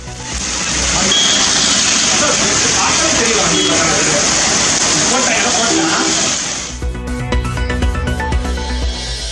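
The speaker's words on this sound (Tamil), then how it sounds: "கொடைக்கானலில் 1 மணி நேரம் கொட்டி தீர்த்த கோடை மழை." Heavy summer rain pours down steadily in Kodaikanal, a loud, dense roar that goes on for several seconds before it turns into rougher splashing and rumbling.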